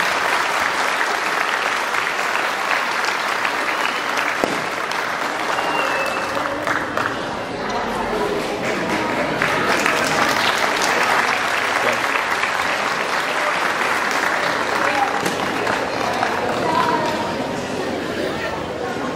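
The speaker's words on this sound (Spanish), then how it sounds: "Un fuerte aplauso, por favor." Audience at a primary school graduation ceremony of the Escuela Primaria Plan de Ayala gives a long, steady round of applause, loud and dense throughout, with a murmur of crowd chatter mixed into the clapping.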